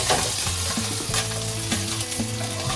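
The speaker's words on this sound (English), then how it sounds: "the residual heat in that pan is more than enough to finish cooking that fish" A seabream fillet sizzles and crackles in a hot pan, steady close frying with brief scraping and clinks of a utensil against the pan.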